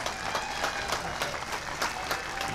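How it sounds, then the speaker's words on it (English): A crowd applauds a police sergeant at a city Fourth of July celebration, giving steady clapping with scattered louder individual claps, moderately distant. "Join me in giving a round of applause to Sergeant Randall Ballinger."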